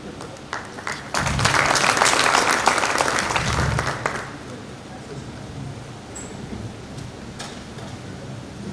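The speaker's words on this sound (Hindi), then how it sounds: "एक बार जोरदार तालियां बजा दी भाई साहब के लिए" An audience claps at a business community award event, a dense burst of applause swelling up about a second in and fading after roughly three seconds, followed by quieter room sounds.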